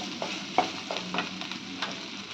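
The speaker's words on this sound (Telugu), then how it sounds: "కొంచెం అల్లం వెల్లుల్లి పేస్ట్, అడగంటకుండా బాగా ఇలా కలుపుతూనే ఉండాలి. పచ్చివాసన పోయేదాకా వేయించుకుని" Ginger garlic paste stirred and frying in a pan, a steady soft sizzle with a few scraping stirs of a spoon, close and alone without talk.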